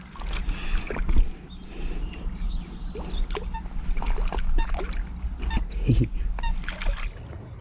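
A tench is released back into a lake, with a few irregular splashes and water sloshes close by, while people talk quietly and outdoor ambience carries on around them.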